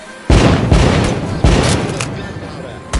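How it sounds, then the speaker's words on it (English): Gunpowder fireworks at a celebration burst in a few loud, sharp booms spaced about half a second apart, each trailing off into a crackling decay, with a smaller pop near the end. "Light up those fireworks. Sit down and enjoy the show. Hey, it exploded into 50"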